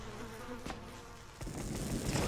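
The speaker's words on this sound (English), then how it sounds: "I hear bees." Bees buzz steadily in the video game Valley, a close, continuous insect drone with a couple of brief clicks.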